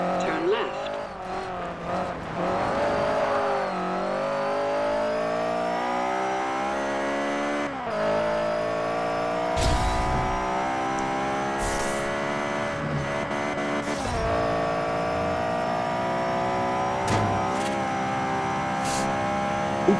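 A BMW M1 race car in Forza Horizon 5 howls close and loud through long climbing revs and gear shifts, with brief tire squeals and a game voice speaking over the engine.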